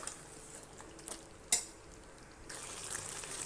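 A spatula stirring a field bean stir-fry in a pan, faint and close, with soft sizzling, a few light scrapes and one sharp metallic clink partway through, without any talking.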